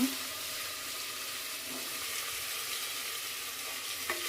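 Garlic paste fries in a pan for mushroom biryani, producing a steady, fairly quiet sizzle that holds evenly throughout, with a faint scrape near the end.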